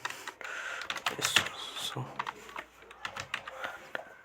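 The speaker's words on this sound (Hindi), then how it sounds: "डिलीट करने के बाद मैं जैसे लिखता हूँ राधा, लिखता हूँ मोहन" Keystrokes on a computer keyboard while typing words into Microsoft Word, a run of quick clicks in uneven bursts, close and moderately loud, with no voice over them.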